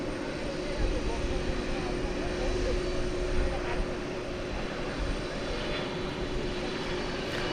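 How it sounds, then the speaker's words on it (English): American Airlines Airbus A321 in US Airways heritage livery at DFW Airport at night, a steady moderate engine drone with a faint tonal whine running throughout, under occasional talk. "It's going to Denver. It's an Airbus A321."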